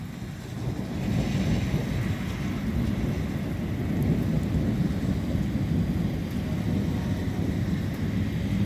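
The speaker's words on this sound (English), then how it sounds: "It's still raining a little, but it's just sprinkling now." Light rain sprinkling after an April thunderstorm, a steady soft outdoor wash of rainfall with low rumbling wind noise, continuous and moderately loud throughout with no talking.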